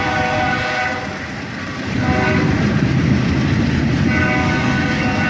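A CSX train led by the Spirit of Western Maryland locomotive passes close and loud, with a continuous rumble and rail clatter that dips briefly and then swells again, without any voices.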